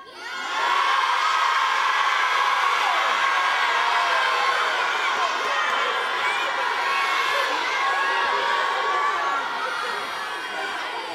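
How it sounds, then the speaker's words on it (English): A large crowd at a live event shouts back at once, a dense, loud, sustained roar of mixed voices and cheers that holds steady for several seconds before easing slightly. "Parts of the crowd are saying no, parts of the crowd are saying yes."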